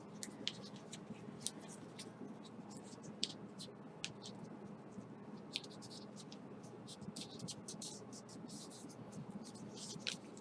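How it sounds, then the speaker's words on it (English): Origami paper being folded and creased for a shuriken, soft crisp crinkles and scratchy taps over a quiet background, with faint speech. "fold this line to be flat against this crease"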